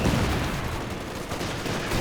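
Machine gun fire in the real-time strategy game Company of Heroes 2 during a 1v1 match, a dense continuous rattle of distant bursts and battle noise with no talk.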